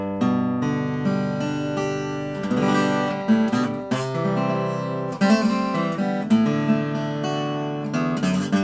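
A short-scale Indian rosewood acoustic guitar with light gauge strings plays ringing chords and picked notes, warm and close, with several strums letting the strings sustain between changes.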